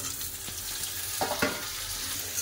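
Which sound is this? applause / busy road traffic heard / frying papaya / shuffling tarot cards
frying papaya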